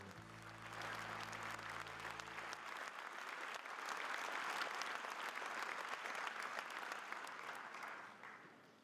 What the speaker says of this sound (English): Please give this group of outstanding volunteers a round of applause.